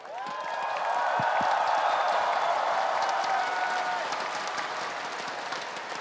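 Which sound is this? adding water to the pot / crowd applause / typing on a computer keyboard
crowd applause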